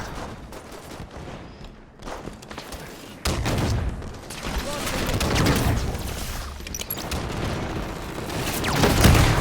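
Weapons fire in the Halo 5 video game, including a Binary rifle, comes as dense bursts of shots and booms through a busy firefight, loud and continuous, with a player's voice talking over parts of it.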